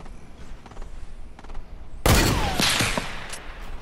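Gunfire in a squad-based shooter video game: a few faint distant shots early on, then a sudden loud burst of close gunfire at about two seconds with rapid follow-up shots and echoing booms.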